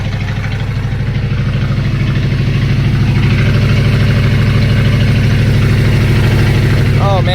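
A 1965 Cadillac hearse engine idles high, a loud, close, steady rumble with a fast even pulse that holds throughout, and a faint voice comes in near the end.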